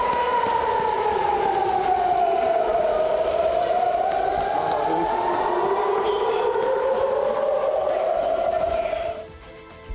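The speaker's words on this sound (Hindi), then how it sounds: "इजरायली शहरों के अंदर गूंजता सायरन।" Air raid sirens wailing in Israeli cities, a loud rising and falling civil-defense tone sweeping slowly up and down over distant background noise, cutting off abruptly near the end.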